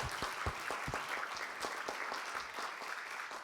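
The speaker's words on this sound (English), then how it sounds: "Let's give Karen a round of applause for that as well." Meeting audience at a Riverside County Board of Supervisors session applauds for Karen at a retirement ceremony: a steady, moderately loud wash of many hands clapping, even and sustained throughout with no talking over it.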